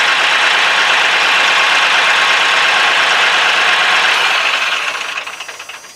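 A small diesel Kioti tractor engine runs loud and steady with a mechanical clatter, then its sound begins to fade toward the end.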